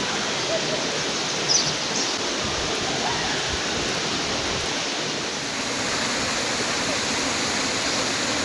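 Mae Koeng Luang waterfall roars as a steady, loud wash of falling water that fills the whole scene without letup, with a faint bird note near the start.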